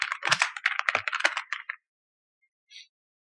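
Rapid clatter of keystrokes on a computer keyboard as a search term is typed, a dense burst of close clicks lasting under two seconds, then silence broken by one brief faint tap.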